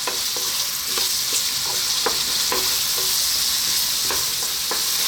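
Carrots, onions and garlic sauté over medium heat in a pan, a steady broadband sizzle with repeated scraping stirs at a loose, irregular rhythm, close and moderately loud with no talking.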